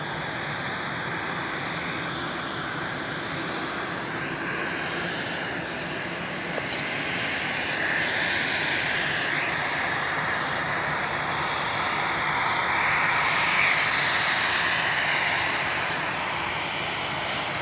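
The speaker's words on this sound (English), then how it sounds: "we have an ATR 72 on the roll to Dublin" An ATR 72 turboprop airliner at Edinburgh Airport rolls for take-off, its propeller engines giving a broad, steady roar at moderate distance that swells slightly toward the end, with no talk.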